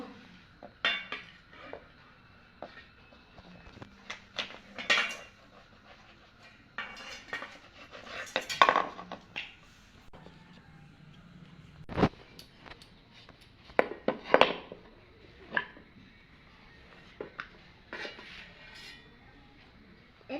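Knife strokes cutting samosa dough on a board in a home kitchen, a series of sharp, irregular taps and scrapes up close with quiet gaps between them, mixed with faint clinks of utensils.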